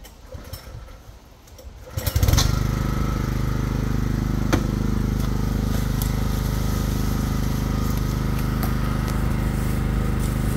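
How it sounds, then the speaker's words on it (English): A Honda GX160 petrol engine on a power washer starts up after quiet handling noises and settles into a loud, steady close-up drone with a constant buzzing hum and a few small clicks while cleaning road sign graffiti. "The Honda GX160 power washer, petrol."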